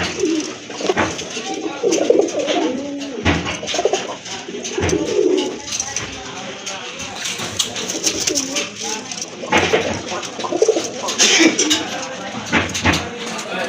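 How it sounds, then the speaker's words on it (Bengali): Pigeons coo repeatedly at close range among a collection of fancy pigeons, low murmuring calls running under ongoing talk and background bustle. "খুব ডাকে একটা কবুতর"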